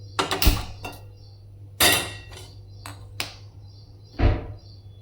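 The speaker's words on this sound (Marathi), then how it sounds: "आता गॅसवर कढई ठेवून घेते" A kadhai is set down on a gas stove, a few sharp metallic knocks and clatters with pauses between them, close and clear, over a low steady hum.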